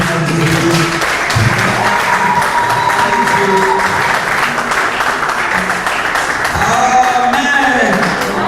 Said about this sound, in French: une offrande d'acclamation pour la gloire de notre Seigneur Jésus